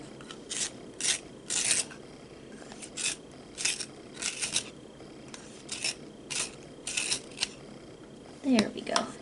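A coloured pencil being sharpened, a dry scraping rasp in short bursts repeated roughly every half second to second, close and fairly quiet against a soft background.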